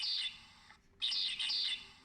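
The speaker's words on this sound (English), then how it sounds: "Whereas the medium ground finch sounds very much like this." Medium ground finch song: two bright buzzy trilled phrases separated by a short gap, clear and fairly close, with no talking.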